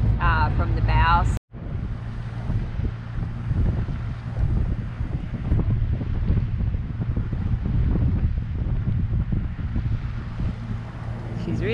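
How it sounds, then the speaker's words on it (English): Wind rushes steadily across the microphone aboard a sailboat at sea, a loud, continuous low roar with water and hull noise underneath, briefly cut out near the start, with a voice heard at the beginning. "as soon as we put the sails down, the wind picked up again"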